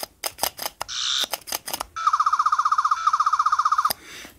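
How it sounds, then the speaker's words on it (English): Third Doctor's toy sonic screwdriver sounds off with short electronic bursts and a steady tone, then a loud, rapidly pulsing warbling whine lasting about two seconds, close and alone. "this is the most accurate sounds for the screwdriver"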